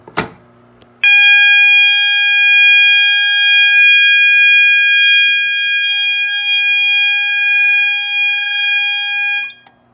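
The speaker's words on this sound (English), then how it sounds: "Let me just grab my Allen wrench and we'll pull the fire alarm." A brief clatter, then a fire alarm system under test blares a loud, steady electronic alarm tone continuously for about eight seconds before cutting off.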